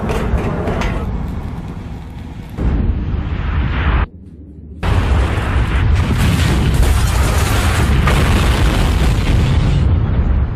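A loud, violent roaring oil refinery explosion in Texas that fills the sound for several seconds, cuts out briefly, then returns as a sustained thunderous rumble.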